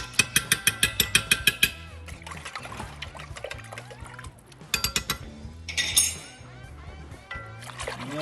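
A spoon swishes red curry paste around in coconut milk in a pot for a Thai coconut and lime soup, with a quick run of clinks against the pot, liquid sloshing and more tapping, while someone talks nearby.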